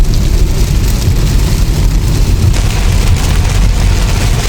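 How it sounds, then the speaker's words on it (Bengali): Heavy rain pours down steadily on a Korean village, a dense, loud, unbroken hiss of water across the whole stretch with no pauses. "বৃষ্টি জোরে নেমে গেছে"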